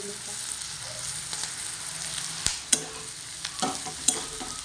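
Vegetables, flat beans cooked village-style, stirred in a frying pan with masala and salt, a steady close sizzle broken by a few sharp scrapes and clacks of the spoon against the pan.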